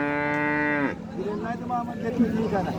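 At a bull market in Salegaon, Kej taluka, Beed district, a bull lets out one long, loud, close moo, followed by crowd chatter and people talking.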